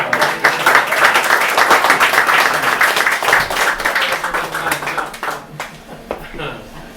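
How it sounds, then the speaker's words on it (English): An audience at an open-mic reading claps steadily, a dense patter of hands holding strong before thinning out and fading near the end. "Can we give him another round of applause?"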